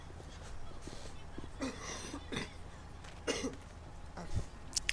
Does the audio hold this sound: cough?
yes